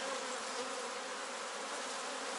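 Honey bees swarm over a brood frame bearing queen cells, a steady dense buzz holding close and even from start to finish with no voices.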